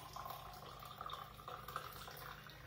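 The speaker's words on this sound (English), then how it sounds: "Nice being able to pour through the lid." Liquid pours steadily through the lid of a Klean Kanteen insulated bottle, a soft continuous trickle and splash lasting a few seconds, faint and close, with no talk over it.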